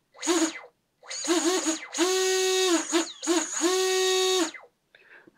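Small RC plane motor driven through an ELRS receiver, whining up in five throttle bursts of rising and falling pitch, the longer ones held steady, with brief quiet gaps between, close and fairly loud.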